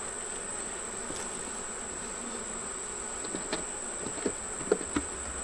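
Honeybees buzz steadily around an open hive as frames of honey and brood are inspected, a continuous close insect drone with a few soft knocks and taps toward the end.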